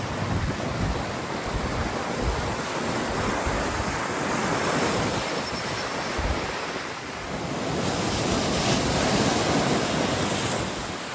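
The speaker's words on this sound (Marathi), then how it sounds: "तर इकडे पाण्याचा फोर्स बघा तुम्ही," The flooded Ulhas River rushes past a bridge during heavy monsoon rain, a loud, continuous roar of turbulent water mixed with buffeting wind noise on the microphone, swelling slightly toward the end.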